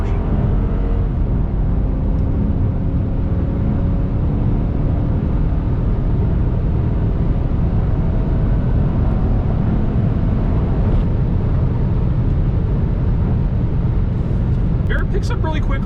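A rear-wheel-drive Chrysler 300C Hemi sedan accelerating onto a freeway, heard from inside as a steady, loud, broadband engine and road rumble. A voice talks over it throughout.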